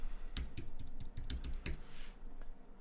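A password being typed on a computer keyboard, heard as a close, quick burst of crisp keystroke clicks with no talking.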